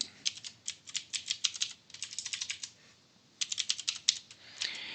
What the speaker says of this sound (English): So I'll go ahead and just type variance up here.